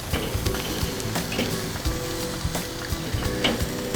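Bison burgers sizzle over an open fire, a dense, crackling fry with scattered pops and scraping stir-like clicks, close and steady throughout.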